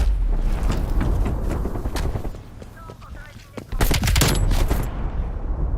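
Rapid video game M16 rifle gunfire, dense bursts of sharp cracks that pause briefly midway and then resume loud and close, with some background noise.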